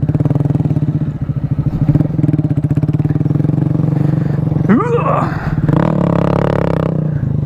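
A Grom motorcycle engine revs and drones on a dirt track with the throttle blipping, the tire sliding, and people talking over the close, steady engine noise.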